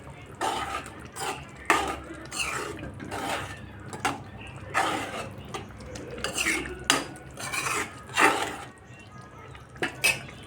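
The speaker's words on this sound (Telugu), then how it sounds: "పులుసులో నెత్తలు కూడా వేసేసుకున్నాను. ఇప్పుడు మొత్తం కలుపుకుంటాను నేను." A spoon stirring dried anchovy (nethallu) curry in a metal pot, repeated close scraping and clinking strokes in an irregular rhythm, fairly loud.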